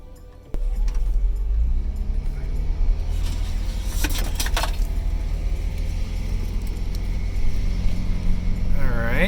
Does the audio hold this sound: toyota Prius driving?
yes